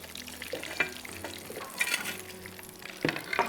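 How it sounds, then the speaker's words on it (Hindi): A burger patty fries in oil over low heat in a TV kitchen, giving a soft continuous sizzle with occasional stirring scrapes and light utensil clinks against the pan. "हल्की आंच पे तलना है"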